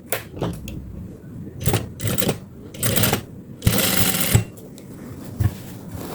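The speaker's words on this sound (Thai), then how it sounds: "เย็บเนาก่อน" A sewing machine basting a hidden zipper runs in short bursts of rapid stitching separated by pauses, close and fairly loud, with a few small clicks between runs.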